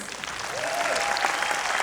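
Applause from parents in the audience at a preschool celebration event, a steady wash of clapping that swells slightly and holds for about two seconds, with a faint murmur of voices.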